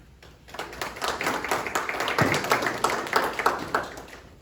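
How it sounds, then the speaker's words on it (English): A small audience at a company morning presentation breaks into applause, a close and lively patter of individual claps that builds quickly and holds steady before easing off. "We'll give him a round of applause and we'll get started."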